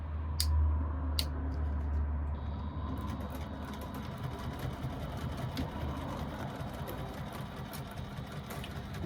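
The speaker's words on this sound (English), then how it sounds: "I will be stitching inside of the bag" A sewing machine hums continuously while stitching along the inside of a bag, a steady mechanical whir with faint ticking, moderately quiet and close.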